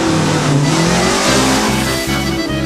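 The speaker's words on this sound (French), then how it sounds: "La numéro 7, Monsieur Michel Valois, Renault Dauphine de 1963." A 1963 Renault Dauphine revs hard at a historic hill climb, its engine loud and close with a rising, straining tone that holds steady over a few seconds.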